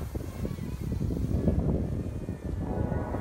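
An SHRC Locke 720p camera drone, a budget Tello clone, flies nearby with a steady, low propeller whir that holds fairly even throughout, without talk.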